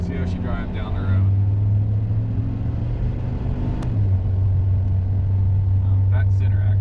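A 2002 Dodge 2500 pickup with an 8.0L V10 rolls down the road, its engine a steady low drone and rumble throughout, with a brief faint voice near the start and again at the end.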